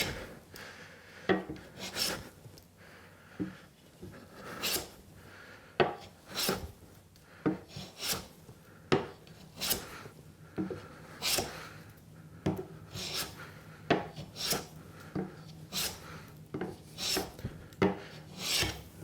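A hand plane shaves wood down to a taper line in repeated rasping strokes, about one every second, each a sharp, close scrape followed by a short pause, with no talking.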